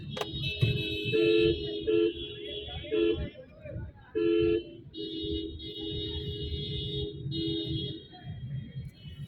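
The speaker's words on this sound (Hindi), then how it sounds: "और ये रहा रेलवे स्टेशन, बनारसी का रेलवे स्टेशन।" Car horns honk repeatedly outside a crowded Varanasi railway station, several short and long toots over busy street noise, with people talking nearby.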